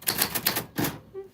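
A traveling typewriter clacks out a quick run of sharp, close keystrokes in an uneven rhythm, ending with a faint ringing tone after the last strikes.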